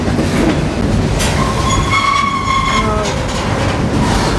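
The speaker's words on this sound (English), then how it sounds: "Now the train is almost at the famous Keddie Wye-a." Burlington Northern freight train rolling south toward Keddie Wye, heard from aboard as a loud steady rumble of wheels on rails with rhythmic clicking and high metallic squeals from the wheels.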